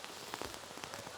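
Steady rain falls at an outdoor compound archery team bronze match in Shanghai, a dense hiss with scattered sharp droplet pattering on surfaces, continuous and fairly soft, with no voices.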